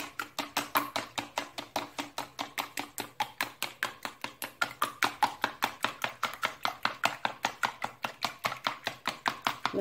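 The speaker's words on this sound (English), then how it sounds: "Now I'm using this to whisk." Eggs whisked in a bowl with a whisk: a fast, even run of sharp clicking taps, about four to five strokes per second, close and steady, with no talking.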